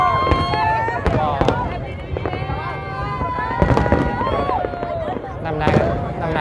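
New Year's Eve fireworks bursting over the Landmark 81 tower in Ho Chi Minh City, loud rapid pops and booms in dense overlapping volleys with crowd noise underneath.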